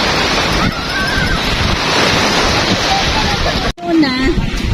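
Waves break on White Beach, a white sand beach, heard as a loud continuous wash of surf with wind buffeting the microphone. A voice briefly speaks near the end.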